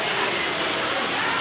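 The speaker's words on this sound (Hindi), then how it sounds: "इतनी ज़्यादा बारिश" Heavy rain pours steadily at a hilltop Naina Mata temple during a fair, a dense, even hiss of drops hitting surfaces close by with no break across the moment.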